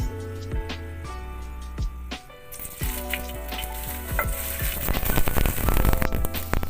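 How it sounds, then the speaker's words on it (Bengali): Dried red chilli dropped into hot oil in a wok bursts into loud, steady sizzling and spitting crackle that swells stronger toward the end, alone with no talk. "কড়াতে তেল বসিয়ে দিয়েছি তাতে একটা শুকনো লঙ্কা ফোড়ন দিলাম"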